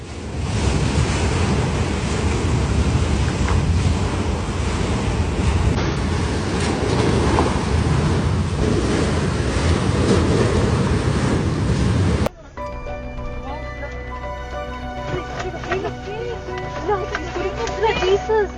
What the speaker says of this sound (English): That moment when your pool turns into a mini ocean.